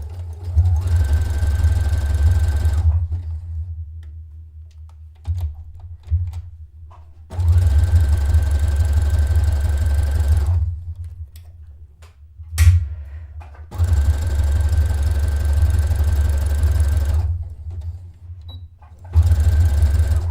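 A sewing machine runs a zigzag stitch along a dart in knit fabric, in four steady bursts of a few seconds each, separated by quiet pauses with faint handling noises.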